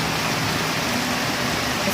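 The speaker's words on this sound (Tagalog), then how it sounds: "ngayon biglang buhos yung ulan." Steady, dense hiss of heavy rain pouring down continuously, loud and close with no pauses.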